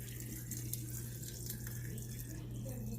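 Liquid pouring into a measuring cup, a steady watery trickle running for about three seconds at moderate distance, with no talking over it.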